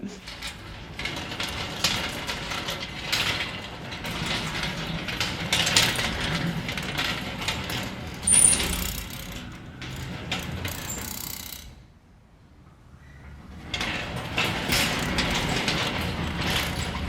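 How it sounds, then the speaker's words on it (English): A metal gate in Thailand rattles and clanks as it is opened and closed, a steady mechanical clatter with a louder knock near eight seconds, a brief quiet gap around twelve seconds, then more rattling. "These are the sounds that you hear in Thailand from us. A rattling gate."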